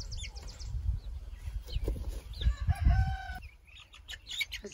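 Hens with young chicks cluck and give drawn-out calls close by, mixed with faint chirps and soft rustling.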